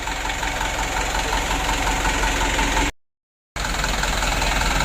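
A motorcycle engine on a 136 HDL build, freshly reassembled after overheating, idles steadily and loudly with a rough, slightly knocking mechanical texture, cutting out briefly to silence before resuming at the same level.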